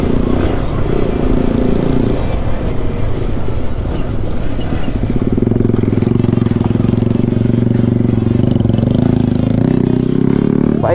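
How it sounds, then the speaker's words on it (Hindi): An off-road motorcycle engine runs steadily and close by throughout, its drone growing heavier and more sustained in the second half, with rattling clatter and some speech mixed in. "बाइक की क्या साउंड आ रही है यार अपनी बाइक की"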